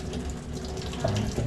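Water gushes steadily from a repaired pipe under strong pressure, a continuous rushing splash at close range with a slight surge near the end.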